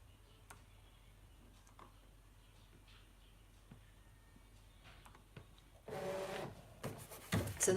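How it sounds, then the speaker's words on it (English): A ScanNCut cutting machine runs a half cut on rhinestone template material, with faint ticks at first, then a louder whirring mechanical drive and scraping near the end. "So the machine's still on half cut because that's how I set it with the very first one."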